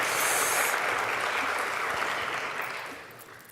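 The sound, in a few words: audience applause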